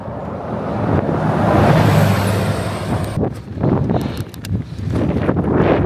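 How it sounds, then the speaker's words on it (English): Trucks and traffic roar past on the Princes Highway in Australia, a loud passing rumble that swells and fades, mixed with wind buffeting the microphone. "the trucks on this road are no joke"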